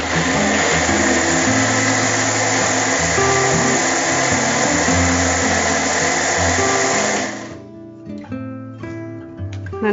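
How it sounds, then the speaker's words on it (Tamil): A mixer grinder whirs steadily, grinding green gram dosa batter with coriander and curry leaves, loud and close. About eight seconds in the motor cuts off and the whine fades out. "இதுல கொஞ்சம் கொத்தமல்லி, ஓகே, கொஞ்சம் கருவேப்பிலை ரெண்டையும் போட்டே அரைச்சிடலாம்"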